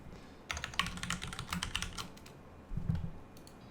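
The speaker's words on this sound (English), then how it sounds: "You actually type in the folder name." Keys clatter on a computer keyboard as a folder name is entered during a home server setup, two quick bursts of close, light typing separated by a short pause.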